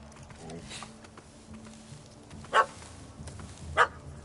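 Dog barking in The Witcher 3: Blood and Wine, two short sharp barks a little over a second apart over quiet game ambience, with some speech around them.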